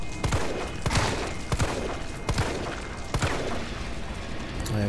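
Several heavy shotgun blasts boom at irregular intervals over a busy, cluttered soundtrack in Resident Evil 3, each blast sharp and loud with a short decay.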